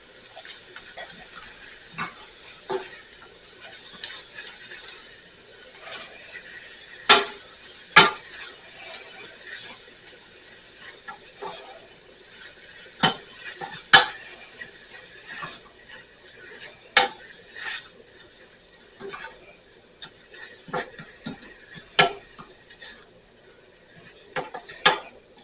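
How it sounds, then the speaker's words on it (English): A spoon scrapes and clinks against a pan while a spinach mixture is stirred over gentle heat, sparse sharp metallic taps and scrapes over a quiet, low background hiss, no voices. "we're going to stir these until the spinach wilts down"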